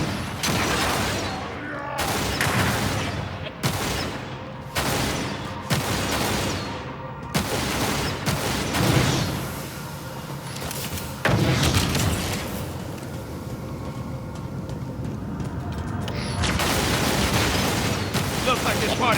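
Rapid gunfire and booming blasts from a Halo campaign battle, with dense overlapping bursts of shots and explosions throughout, loud and close, under occasional speech.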